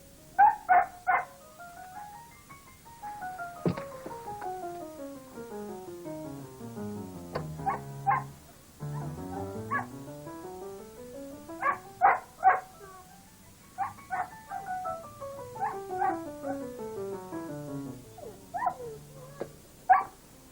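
A dog barks in repeated short bursts and clusters, loud and close, with whining yelps in between and no talk.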